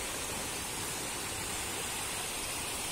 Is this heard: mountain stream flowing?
yes